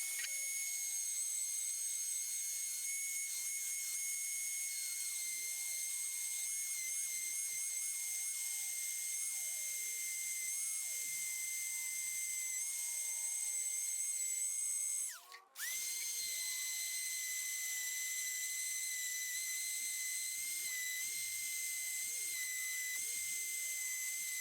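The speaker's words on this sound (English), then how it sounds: "I'm going to do a lot of sanding on this and shaping to get things to the right size and smoothness" A high-pitched rotary tool sands and shapes small parts for a diesel compressor build. It whines steadily and close up, with a brief stop midway before it spins back up, and no talking.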